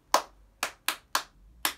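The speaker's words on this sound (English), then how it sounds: "let's do a little bit of rhythm clapping." Five sharp hand claps in an uneven rhythm pattern during a children's music class, close and clear with short gaps between them and no talking.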